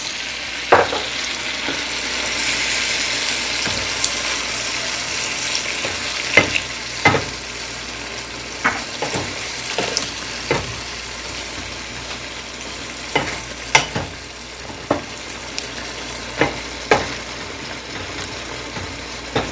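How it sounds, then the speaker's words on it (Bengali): Vegetables with a ginger, green chilli and cumin paste fry in a pan under a steady sizzle, as a spatula repeatedly scrapes and knocks against the pan in sharp, irregular clicks. "ভালো করে মশলাটা আমি কষাচ্ছি, দেখো।"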